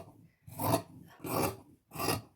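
Scissors slicing through blouse fabric, three separate rasping cuts in a steady rhythm, close and clear with no talking.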